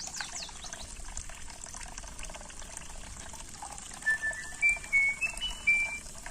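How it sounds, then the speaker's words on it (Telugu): Water is poured into a cooking pot for bagara rice, a faint steady trickle with soft, thin whistling tones rising near the end. "వాటర్ కూడా దాంట్లోనే వేస్తున్నాం"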